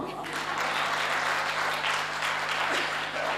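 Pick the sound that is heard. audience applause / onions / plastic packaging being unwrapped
audience applause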